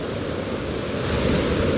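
A small waterfall off the Kalpetta bypass on the road toward Pulppara, heard as a loud, continuous rushing roar of falling water, close and steady with no voices.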